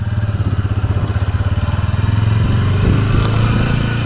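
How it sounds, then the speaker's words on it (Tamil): A 2025 TVS Ronin motorcycle engine pulls away in first gear, a loud, close, steady thudding exhaust pulse that rises slightly in pitch as it moves off, with no talking. "வண்டி ஸ்டார்ட் ஆகிட்டு அப்புறம் தான் இன்ஜினோட சவுண்டே நம்ம கேட்க ஆரம்பிக்குது"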